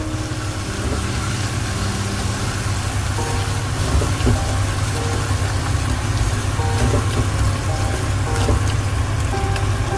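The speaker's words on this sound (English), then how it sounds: "Let it fry." Okra and potato frying in oil in an Indian-style pan fry give off a steady, dense sizzle like light rain over a low constant hum, close and fairly loud throughout.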